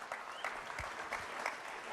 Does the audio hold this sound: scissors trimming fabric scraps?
no